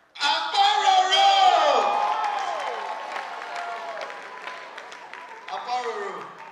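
Audience applause with scattered whoops fills the room at a Naija FM comedy award night, a loud wash of clapping that swells and gradually fades, with a voice calling out over it.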